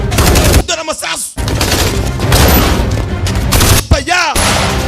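Gunfire rings out in a dubbed action film: rapid bursts of loud shots and booms with sweeping whoosh effects, dense and continuous, under a narrator's voice.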